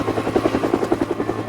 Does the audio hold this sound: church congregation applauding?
no